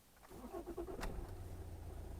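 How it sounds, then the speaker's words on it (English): A motorcycle engine cranks and catches with a sharp burst, then settles into a steady low idle, close and fairly loud with no talk over it. "Now we start the engine."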